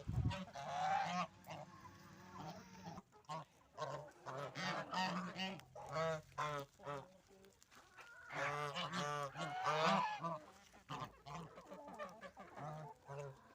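Geese in a village yard honk repeatedly in clusters of nasal, cackling calls, fairly faint and somewhat distant, with brief pauses between bursts.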